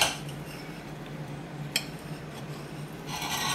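A knife slices through a pan-fried keto cheesecake on a plate, a soft rasping cut with a single sharp clink of metal on dish, close and quiet without talk.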